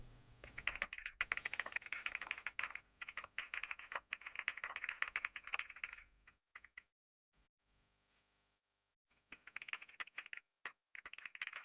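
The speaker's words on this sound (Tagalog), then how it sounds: "Grabe, ang ganda ng tunog ng keyboard mo." Rapid clicking keystrokes on a computer keyboard run in dense bursts, pause for a few seconds with only scattered taps, then resume; quiet and close, with no voices.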